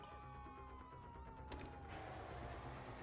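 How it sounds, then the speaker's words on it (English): A police siren in Grand Theft Auto V wails faintly in the distance, rising and falling steadily beneath a low rumble of traffic. "you hear that? Sirens."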